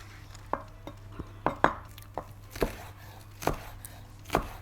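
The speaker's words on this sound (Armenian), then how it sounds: "Կանաչ սոխն էլ կտրատենք։" A knife chops green onions on a cutting board, giving about a dozen sharp, irregular knocks that sound close and clear, with no talking.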